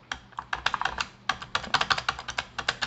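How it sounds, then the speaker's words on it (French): Perixx PERIDUO-714 wireless keyboard typed on, a quick irregular run of clacky key taps with a noisy space bar among them, close up and fairly quiet, with no talking. "c'est la touche ici, espace, qui fait du bruit."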